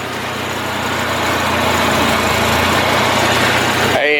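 The Ford 6.8 Triton V10 gas engine of a 2000 Winnebago Itasca Sunrise 32T Class A motorhome idles loud and close with a steady low rumble, and no one speaks over it.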